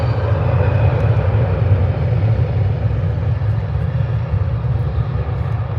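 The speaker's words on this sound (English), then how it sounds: "EasyJet A320. Might be the A319 actually" An EasyJet Airbus A320 or A319 at Birmingham airport roars continuously, a loud, steady low-pitched engine rumble holding for several seconds with no voices.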